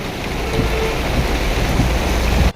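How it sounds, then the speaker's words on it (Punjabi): Steady heavy rain of the season's first downpour hissing down continuously, loud and close, with no voices. "ਇਹ ਮੌਸਮ ਦੀ ਪਹਿਲੀ ਬਰਸਾਤ ਹੈ"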